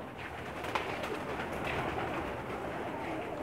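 Pigeons cooing in a rooftop loft that houses Pakistani pigeons, including breeders, with a steady murmur of soft coos blending into a continuous bed of ambient noise.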